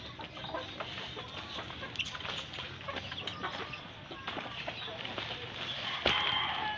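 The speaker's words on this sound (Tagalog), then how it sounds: "daming manok oh" Chickens cluck on a farm among papaya trees, scattered nearby clucks and calls with a sharp squawk near the end, while someone talks over them.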